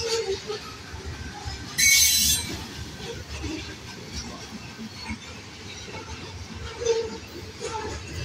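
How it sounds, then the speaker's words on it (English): A CPKC westbound loaded grain train rolls past in Alice, Texas, with a steady rumble of railcars, rhythmic wheel clatter and a sharp burst of wheel squeal, fairly close and continuous throughout. "This is a westbound loaded grain train"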